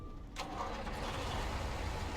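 A Navistar truck engine in a trucking video game turns over and settles into a steady, rumbling diesel idle after a brief starter whir, close and continuous without talk.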